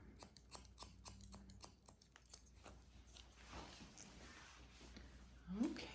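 Scissors snip repeatedly in quick, light clicks while point cutting gray hair into a pixie style, close and fairly quiet, with soft rustling and a brief voice near the end.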